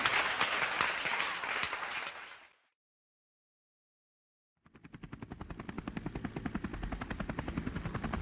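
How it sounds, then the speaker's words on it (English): A large audience applauds loudly for a couple of seconds before it cuts to silence. A rhythmic, thumping helicopter rotor then rises and continues to the end. "Now let's have a really big round of applause for our armed services."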